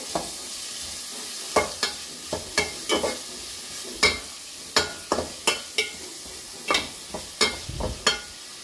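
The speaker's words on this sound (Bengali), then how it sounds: "আমি কাটা পেঁয়াজ দিয়ে আমি রান্না করব একটু লবণ দিয়ে এটাকে হচ্ছে আমি একটু সটে করে নিব পেঁয়াজটাকে" Chopped onion with salt is sautéed in a pan for a papaya curry: a low sizzle runs beneath a steady series of close, crisp spatula knocks and scrapes.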